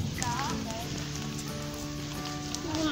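Steady rain falls outdoors along a road trip between Quang Tri, Hue and Saigon, a soft continuous hiss with faint patter. Bird-like chirps and other faint background sounds drift over it, and no one speaks.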